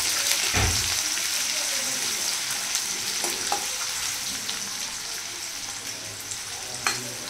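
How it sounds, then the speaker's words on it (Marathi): Finely chopped onion sautéing in a hot pan gives a steady, close sizzle with faint scraping stirs and an occasional sharp pop, and no one speaks over it. "आपल्याला कांदा बारीक कट केलेला कांदा त्यात ॲड करायचा आहे आणि तो छान असा परतून घ्यायचा आहे"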